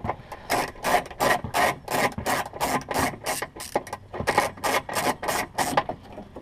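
A small ratchet turns a bolt on a car sway bar, giving a close, steady run of about twenty sharp rasping clicks in an even back-and-forth rhythm.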